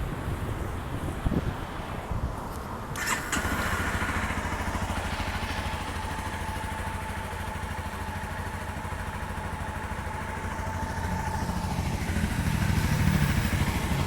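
A Honda CBR300R motorcycle engine fires up after a brief crank and idles steadily nearby, with a low even rumble over breezy outdoor noise.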